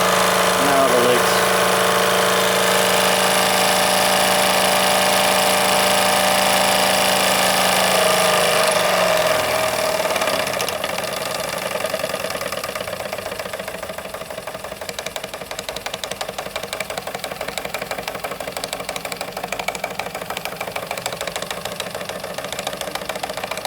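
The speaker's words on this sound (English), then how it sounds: "I've turned the gas up a bit more to get higher flame, and I've got more revs now." A Wilesco D24 toy steam engine runs on gas with the flame turned up, giving a rapid, steady mechanical chuffing and knocking that carries on throughout. A fainter high whine fades partway through.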